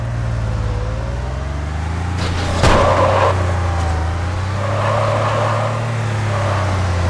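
A car engine hums low and steady, then rises in pitch briefly as it is given gas. A sharp thump sounds midway, and the engine sound stays close and fairly loud throughout.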